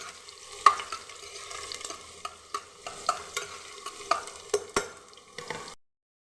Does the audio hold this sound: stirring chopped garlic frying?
yes